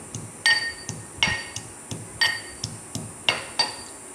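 Garlic cloves being crushed by pounding for a dish of fried greens, heard as a rhythmic series of about ten sharp, close knocks with a slightly metallic clink, spaced roughly every half second.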